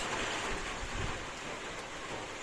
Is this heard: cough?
no